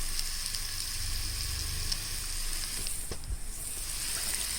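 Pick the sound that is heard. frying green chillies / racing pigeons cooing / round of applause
frying green chillies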